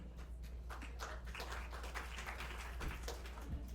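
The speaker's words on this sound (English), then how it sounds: "That was a pathetic clap." A small audience at a buyers' presentation session claps weakly, producing faint, scattered, uneven claps over a low room hum for a few seconds.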